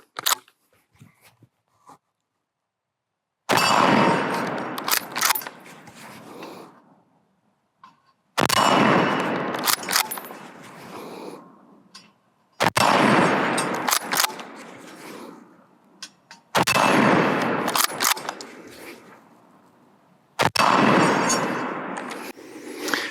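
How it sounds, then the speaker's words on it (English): Beretta BRX1 bolt-action rifle firing rounds at a target outdoors, five loud, sharp reports spaced several seconds apart, each followed by a short, rough tail of echo and handling noise. "We'll fire a few more rounds."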